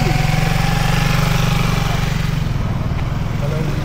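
A motorcycle engine runs loud and close with a steady low throbbing pulse, holding a fairly even idle-like rhythm throughout, with no clear rise in revs.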